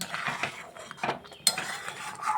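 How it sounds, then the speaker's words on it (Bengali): Vermicelli halwa with condensed milk stirred in a pan, a spoon scraping and clinking against the metal in irregular strokes, quiet and close. "এই যে একটু নেড়ে চেড়ে দিচ্ছি কনডেন্স মিল্কটা যাতে সব সেমাইয়ের সাথে মিশে যায়"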